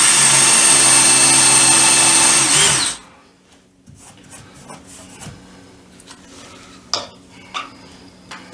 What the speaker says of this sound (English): I'm going to be using 2-inch Spax construction screws, one in each hole, obviously.